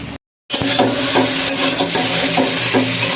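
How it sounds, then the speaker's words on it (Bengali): Noodles being stir-fried in a home kitchen pan, a continuous loud sizzle with repeated scraping and stirring strokes of a utensil against the pan, after a brief moment of silence at the start. "এই যে এখন কিন্তু নুডলস রান্না হচ্ছে"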